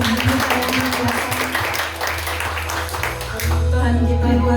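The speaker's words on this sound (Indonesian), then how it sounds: "Boleh berikan tepuk tangan untuk Tuhan kita yang luar biasa." A church congregation claps and applauds at a worship service, a dense wash of clapping with voices mixed in before a sustained musical tone swells up near the end.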